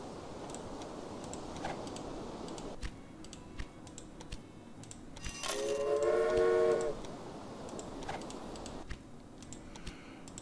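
Freight trains, Brooks Mogul locomotives, run on an Australian route to Cobar in the Railway Empire strategy game. A steady rolling rumble with light clicking is heard, broken midway by a loud, sustained horn blast lasting over a second, with no talking.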